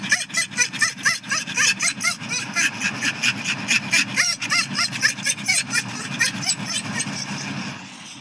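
Excited dog making rapid rhythmic panting, huffing vocalizations in a car on the way home, steady and close throughout, with faint engine rumble underneath.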